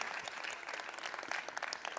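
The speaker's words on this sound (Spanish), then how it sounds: "Yo quiero que le demos un aplauso a Chanely por contarnos ese testimonio." Congregation applause in a church service, a soft, steady wash of many hands clapping at a distance, fairly faint and continuous throughout.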